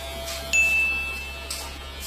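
An electric hair clipper fitted with a 1.5 guard buzzes during a simple mohawk haircut, a thin steady hum that swells briefly at the start and again near the end of a short stretch.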